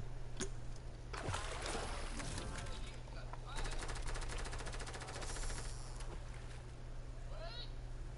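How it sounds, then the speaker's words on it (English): Rapid bursts of automatic gunfire crackle in a busy Fortnite soundscape, with shots and chatter layered over a steady low hum and voices talking. "I hear gunfire."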